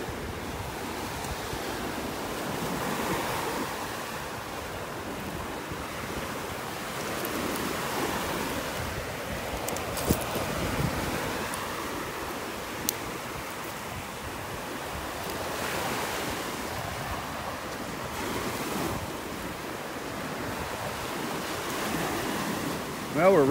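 Surf washing steadily onto a beach at North Naples, Florida, with a constant wash of waves and gusting wind buffeting the microphone, continuous and fairly loud throughout with no talking.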